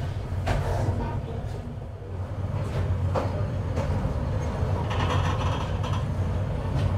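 Sonar Bangla Express pulling out of Airport railway station, a steady low rumble of carriages with creaks and mechanical clatter rising throughout, close and continuous.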